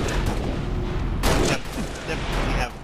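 DMR rifle fire in a Halo Reach slayer match: a few sharp game gunshots, one standing out briefly, over a busy in-game background with voices underneath.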